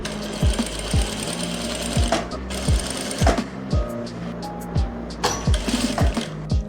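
A sewing machine runs steadily up close while stitching the belt of a heavy Patiala salwar. It hums continuously, with a regular pattern of soft thumps from the needle.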